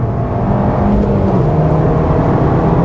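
A 2023 Abarth 695 C Competizione with 180 hp and a limited-slip differential is driven at full throttle on a fast section of a track, its engine straining in a loud, continuous, close drone.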